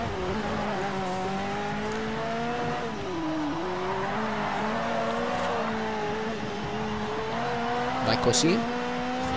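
A Ferrari F40 race car in the Forza Horizon video game drives steadily, its engine holding a sustained droning note that rises and dips slightly with the throttle, with a brief sharper burst near the end and a voice speaking over it.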